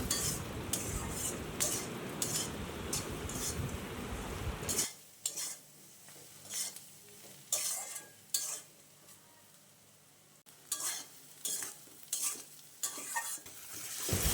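Spices and salt are mixed and fried in a pan for an egg and eggplant curry, with a loud sizzle at first, then repeated metal spoon scrapes and clinks against the pan over a quieter fry.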